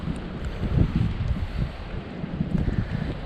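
Strong wind buffets the microphone at the waterside during a fishing outing, roaring in loud gusty surges that rise and fall throughout, with no voices.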